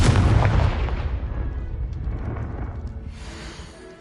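A Confringo fire spell explodes in a Harry Potter video game, a heavy close boom with a long rumbling decay that fades over several seconds, heard alone.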